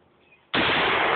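A shotgun fires once, a sudden loud blast near the mic that keeps ringing to the end, after a half-second of quiet background.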